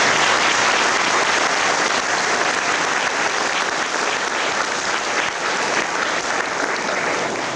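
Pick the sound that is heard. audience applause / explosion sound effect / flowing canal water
audience applause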